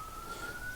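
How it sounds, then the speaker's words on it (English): A steady siren wails outdoors at moderate distance, holding a sustained tone with a slight pitch drift, faint and continuous under room noise. "You can probably hear the sirens outside."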